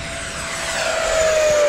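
An E-flite F-16 model jet flies past at full throttle, a loud, steady, rising whine that grows closer across the moment with a thin tone sliding slightly downward.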